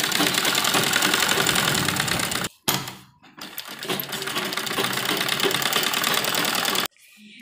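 A sewing machine stitches the shoulder seams of an embroidered net lehenga blouse, whirring loud and steady, pausing briefly once, then running on before stopping abruptly.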